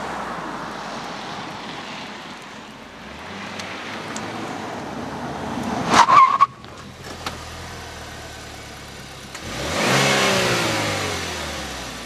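The turbo engine of a 2014 Buick Verano revs hard while the car corners: a loud engine note climbs and peaks midway, cuts off suddenly, then rises again into a sustained roar near the end.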